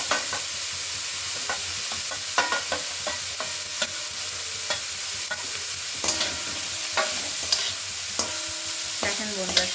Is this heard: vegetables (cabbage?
yes